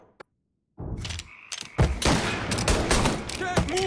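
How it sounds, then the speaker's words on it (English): Rapid, dense gunfire from the video game Mafia III erupts after a brief pause, with repeated loud broadband shots and thuds overlapping into a sustained barrage, close and intense; faint voices may sit beneath the shooting. "Can't move for him firing!"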